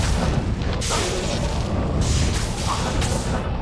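Fire spells from a Druid in Diablo 2 blast continuously, a dense rumbling wall of booms and crackling bursts with whooshing surges, loud and unbroken throughout.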